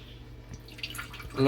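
Water dripping out of marinated chicken drumsticks wrapped in a cotton handkerchief for tandoori chicken, a few soft, close drips over a brief moment with no talking.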